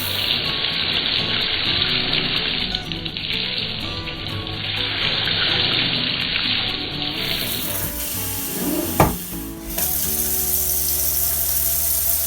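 Collard greens are rinsed under a running kitchen tap, with a steady loud gush of water splashing into the sink. The flow shifts in tone partway through, then a brief knock interrupts before the stream continues.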